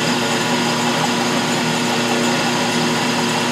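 Atlas metal lathe running steadily while a boring bar cuts inside a part, a continuous motor hum with a steady tonal whine, fairly loud and unbroken throughout.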